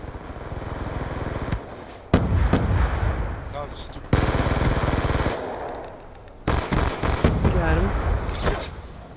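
Rapid automatic gunfire from a high fire rate weapon in Call of Duty Black Ops 2, coming in several loud sustained bursts separated by short pauses, with game audio in the background.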